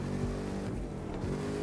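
Car engine in a racing video game, a steady droning motor with rising and falling pitch that continues throughout, fairly loud.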